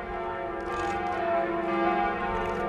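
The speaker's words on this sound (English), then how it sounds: "the chimes of Notre Dame were known for their extraordinary quality." Notre Dame cathedral church bells chime together in a dense, sustained wash of ringing tones, steady and fairly loud throughout with no voices.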